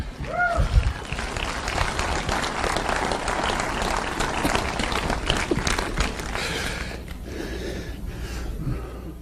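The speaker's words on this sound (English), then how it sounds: "a round of applause" An audience at a motivational speaking event bursts into sustained loud applause, dense clapping close and steady for most of the clip before thinning near the end, with a shout and voices mixed in.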